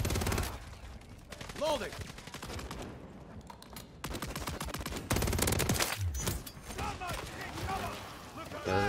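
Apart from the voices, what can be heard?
gunfire in the video game Modern Warfare 3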